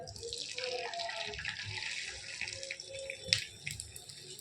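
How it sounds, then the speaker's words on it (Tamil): Beaten spiced egg pours into hot oil in a pan, giving a soft, continuous frying sizzle and bubbling with a few sharper pops near the end. "இப்போ எண்ணெய் கரைஞ்சிருச்சு இதெல்லாம் ஊற்றிடலாம் அடித்து வச்சுருக்க மசாலா முட்டையை வந்து ஊற்றிடும்"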